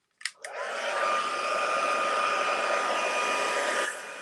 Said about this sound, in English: now we can heat set that